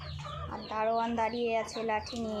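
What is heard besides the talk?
chickens fighting on a poultry farm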